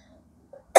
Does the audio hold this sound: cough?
yes